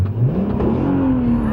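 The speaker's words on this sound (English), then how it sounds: "Main reason being for that VR6 sound." A 2003 VW Golf R32 with its naturally aspirated VR6 engine revs up close by, a loud rising and then slowly falling engine note with a strong low growl, no talking.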